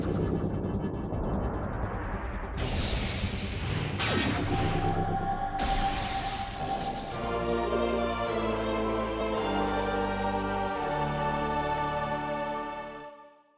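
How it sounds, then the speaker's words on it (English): Item acquisition jingle from Metroid Prime Remastered, opening with bright swooshing bursts, then settling into a sustained, swelling synthesized fanfare of layered tones that fades out; loud and clean with no talking. "One of the sound effects I do love about Metroid, but couldn't really appreciate it as often, is when you acquire a new item."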